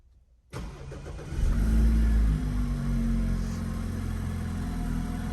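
A car with a BMW N20 engine, just after a valve cover gasket replacement, cranks and catches, then settles into a steady, loud idling rumble close by.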